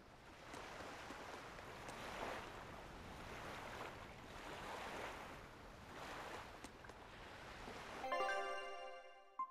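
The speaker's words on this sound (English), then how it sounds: "We're safely on the rolling waves." Ocean waves wash in slow, swelling surges around a sailing ship in Tales of Berseria, a soft continuous roar of surf and wind that rises and falls, ending with a brief tonal chime.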